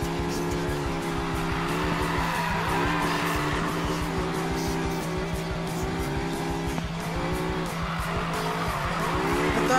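Porsche 918 race car in Le Mans colors in the Need for Speed Payback video game, engine roaring steadily with long tire squeals and skids, loud and continuous, with faint talk underneath.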